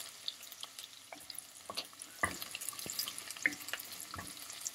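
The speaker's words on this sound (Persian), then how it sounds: "و سیب زمینی رو اضافه می‌کنیم و کمی تفت میدیم" Diced carrots and potato sautéed with softened onions in a pan for a pumpkin soup, producing a light sizzle with scattered stirring scrapes and clinks, close and moderately loud, with no voices.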